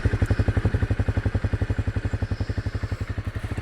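A Honda CRF250 dirt bike engine thumps at a fast steady pulse while riding, loud and close, the rhythmic firing dominating throughout.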